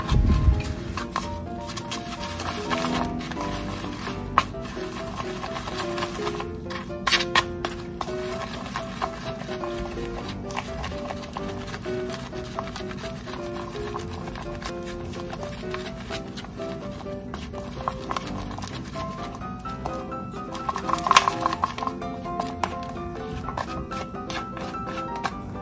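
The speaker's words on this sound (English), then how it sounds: "add mustard. And mix very well." Sticky natto being vigorously mixed with mustard, a continuous fast clicking and stirring rhythm of the utensil against the bowl, close and steady throughout with no talking.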